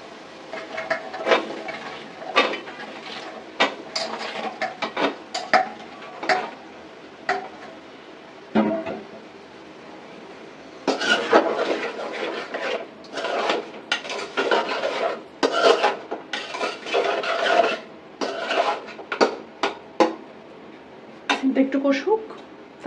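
Flat beans stirred into fried spice paste in a pan, giving repeated rasping, scraping strokes of the spoon against the pan in uneven bursts, while a person talks between and over them.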